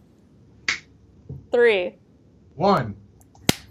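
A single sharp hand clap lands between two spoken counts, standing in for the missing number, with brief gaps of quiet around it.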